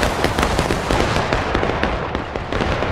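Musket volleys from a Civil War battle video game rattle on without pause, dense overlapping gunshots crackling near and far like a long firecracker string.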